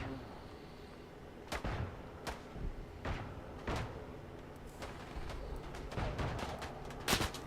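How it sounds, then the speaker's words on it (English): Mortar and artillery fire in the WWI first-person shooter Isonzo: a series of sharp, booming blasts, roughly one every second, over a constant low battlefield rumble, with a louder burst near the end. "Can't believe I haven't died yet from all of this frickin' mortar fire."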